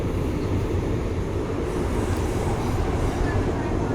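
Train rolling past on the Thailand Death Railway, the Siam–Burma line near the River Kwai bridge, a steady close rumble of wheels and cars on track that holds level for the whole stretch with no gaps.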